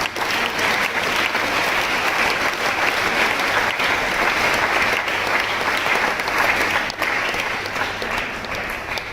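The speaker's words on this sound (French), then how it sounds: "je voudrais aussi vous demander d'applaudir pour vous-même" Sustained applause from a congregation at a closing Mass of a Eucharistic weekend, a dense, even wash of many hands clapping, loud and steady for the whole stretch with no speech.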